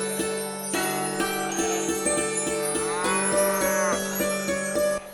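A cartoon buffalo moos in a long, loud, drawn-out call over a steady tonal music bed with bell-like jingles, close and continuous throughout.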